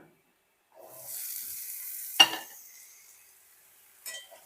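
Sizzling and frying of vegetables as they are added to spiced dried fish (shutki) in a pan, a steady hiss with one sharp clattering burst midway and a brief scrape near the end, no talk.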